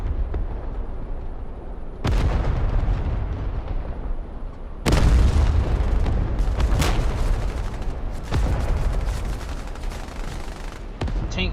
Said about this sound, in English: Tank shots have come in.